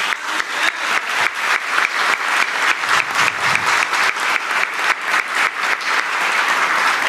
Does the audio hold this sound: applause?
yes